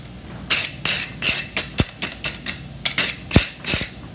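A farrier strikes a horseshoe over an anvil horn with a hammer, giving a steady series of sharp, close metallic blows, some ringing slightly.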